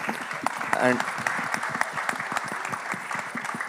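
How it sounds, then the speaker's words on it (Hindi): Audience at a Bollywood song launch event for Bhool Bhulaiya 3 applauds loudly, a steady wash of clapping throughout, with a brief whistle or cheer near the start and some voices mixed underneath. "सो बस उनके लिए जोरदार एक बार तालियां हो जाएं."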